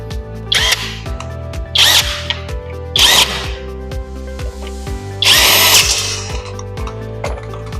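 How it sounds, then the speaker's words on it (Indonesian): An impact wrench rattles off bolts on the cover of a scooter's automatic CVT transmission in four loud, roughly one-second bursts, each separated by short pauses, with a steady mechanical drone underneath the whole time and no talking. "Jika ingin cepat bisa menggunakan impact."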